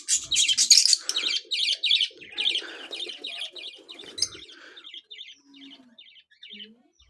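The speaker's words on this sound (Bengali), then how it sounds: "এখানে লাভ বার্ড এবং বাজিগর দুটাই পাখি আছে।" Lovebirds and budgerigars chirping in a cage, a dense stream of rapid high twittering calls that is loud at first and then thins to sparser, quieter chirps.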